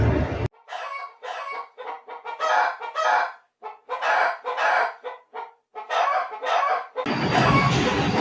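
A rooster crows several times, with hens clucking between the crows. The calls come in loud, separate bursts at close range, and a wash of broadband noise follows at the end.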